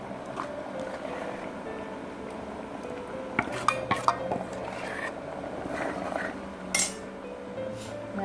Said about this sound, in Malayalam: നമ്മളുടെ അരപ്പ് ഇതിലേക്ക് ചേർത്ത് കൊടുക്കാം